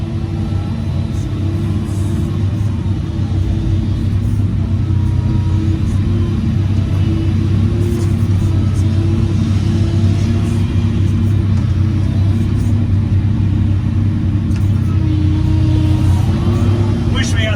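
A Link-Belt 290LX excavator's diesel engine rumbles steadily and close while loading bark dust into a truck, with deep sustained drone and slight revving variations throughout, no words spoken.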